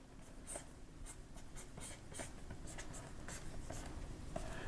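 A pencil scratches across paper while a foot is sketched, making a steady run of short, close strokes with no talking.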